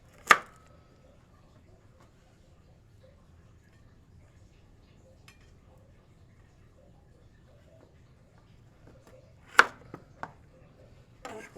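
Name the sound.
knife chopping food into three pieces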